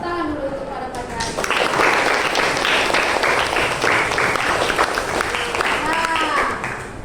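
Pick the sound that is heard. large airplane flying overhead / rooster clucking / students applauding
students applauding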